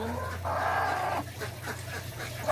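Chickens cluck close by in short bursts, a couple of birds clucking and murmuring over a low steady background hum.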